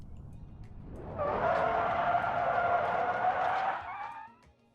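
In BeamNG.drive, a Tesla Model 3 brakes hard and skids, its tires squealing loudly in a sustained screech for about three seconds before fading out, with no voices.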